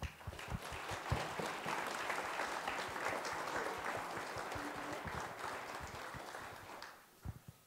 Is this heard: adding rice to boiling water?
no